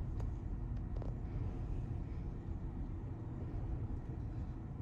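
A car drives by on an open road, heard as a steady low rumble of tyres and engine that stays loud and even throughout with no voices.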